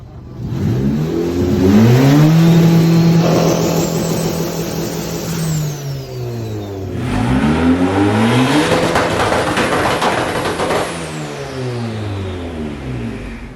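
A turbocharged Honda K-series engine swapped into a 1966 Ford Mustang revs repeatedly, each blip rising to a loud, close roar and falling back toward idle, twice in sequence with turbo whistle over the exhaust.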